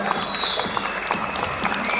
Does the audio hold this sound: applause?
yes